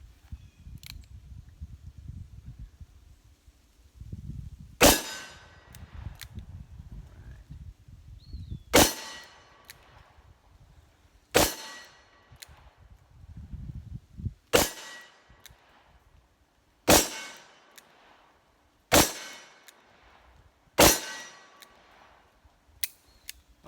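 S&W 686+ revolver with a 3-inch barrel firing at an orange target outdoors, eight sharp, loud single shots spaced a few seconds apart, with quiet handling noise and low rumble between them.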